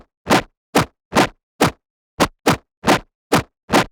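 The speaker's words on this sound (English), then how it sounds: "And now here's how it sounds without any processing." Unprocessed Serum dubstep bass, a series of about nine short, dry, plucky hits separated by silence, fairly loud and alone.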